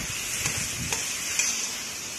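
Chicken fried with masala is stirred in a pan, giving a steady sizzle with a few soft scraping strokes of the spoon against the pan, close and alone.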